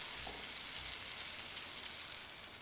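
Food frying in a pan in the Cooking Simulator video game gives a steady, loud sizzle that runs unbroken throughout, with no voices over it.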